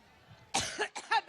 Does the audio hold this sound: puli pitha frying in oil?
no